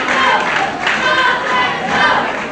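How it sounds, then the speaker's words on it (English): A wrestling arena crowd yells and cheers in a continuous, loud roar, swelling in waves with chants rising over the din. "The crowd begins to yell, "Go, David, go!""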